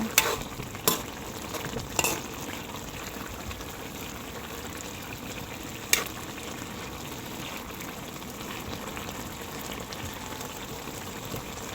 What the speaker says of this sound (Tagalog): Akin po munang hahaluin.